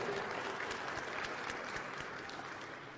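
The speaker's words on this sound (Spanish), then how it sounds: "Vamos a darles un aplauso a los que sí estudiaron en el catecismo." Children in a catechism class clap together in a short burst of applause, fairly faint and roomy, tapering off over a few seconds.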